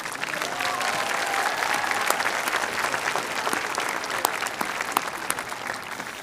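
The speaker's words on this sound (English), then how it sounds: "Graduates, let's give this great support system a round of applause." A large graduation crowd gives a steady, dense round of applause, sustained and fairly loud, with many overlapping claps and scattered cheers throughout.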